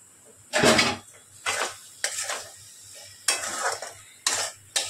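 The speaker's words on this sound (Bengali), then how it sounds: "নাড়াচাড়া করে পটলগুলো যে ভেজে রেখেছিলাম সেগুলো দিয়ে ভালো করে নাড়াচাড়া করব" Fried pointed gourds stirred with spices in a pan: several distinct scraping strokes of a spatula against the pan, close and fairly loud, separated by brief pauses over a faint sizzle.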